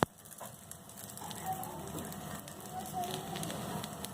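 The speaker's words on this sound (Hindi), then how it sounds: "जब तक ये क्रिस्पी नहीं हो जाती हमें इसे फ्राई करना है।" Tikki patties fry in hot oil in a pan, crackling and sizzling steadily and softly close by, with faint household noise around.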